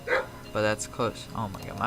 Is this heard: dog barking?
yes